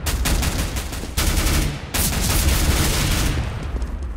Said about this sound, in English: don't stand still when you're shooting the P90